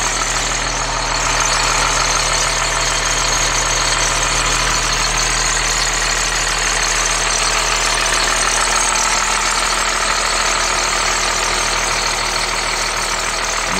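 A Caterpillar C7 diesel engine idles steadily in a 2007 Blue Bird All American bus, a continuous near, loud rumble with a fine knocking clatter running throughout and no voices.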